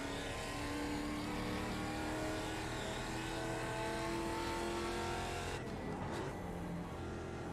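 A race car at Zolder in iRacing roars under load with a loud, continuous engine note, its pitch shifting through a downshift before the sound drops sharply near the end.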